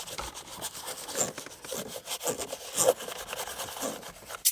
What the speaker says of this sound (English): this is a very soft bristled interior brush, so it's not going to do any damage here.